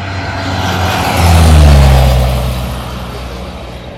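An ultralight aircraft makes a low pass over a runway at a microlight event. Its engine drone rises as it nears, peaks loud in the middle, then fades steadily as it flies on, with no voices.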